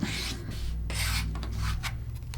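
Quilt fabric for a red, white and blue block being cut a quarter inch off a seam: several close, soft scraping strokes in quick succession, with no talking.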